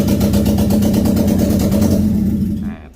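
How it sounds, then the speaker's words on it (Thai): A loud, rough Honda car engine with no exhaust pipe runs with a heavy pulsing rumble, unmuffled and close, then cuts off abruptly near the end. "ท่อไอเสียไม่มีนะครับเวลาสตาร์ทเครื่องนะครับเสียงจะดังนิดนึงนะครับเสียงท่อจะดังนะครับ"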